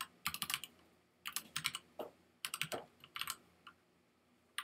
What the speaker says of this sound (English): just type that in